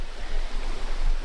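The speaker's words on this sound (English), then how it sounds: "That's a pretty waterfall" Steady broadband rush of a waterfall in a scenic natural setting, a continuous close roar of falling water with no voices over it.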